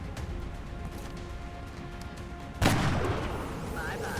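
A single sharp sniper rifle shot cracks out in the turn-based strategy game XCOM: Long War, following a quiet stretch and trailing off in a long ringing decay.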